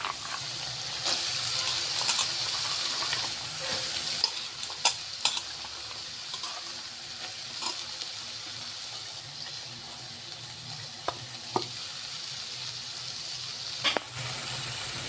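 Lentils (dal) fry in a pan with tomato for a cabbage vegetable dish, giving a constant soft sizzle, while a utensil scrapes and stirs and produces occasional sharp clinks against the pan.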